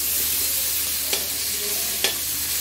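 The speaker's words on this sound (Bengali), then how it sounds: "আমরা বেশি ভাজবো না, হালকাই ভাজবো" Hilsa fish with potato and plantain fries lightly in a pan, giving a constant close sizzling hiss broken by two sharp utensil clicks as the pieces are turned.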